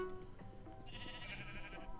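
Sheep bleat in a Minecraft arcade Snake minigame, a drawn-out synthetic bleat over steady game background noise, moderately loud and without talk.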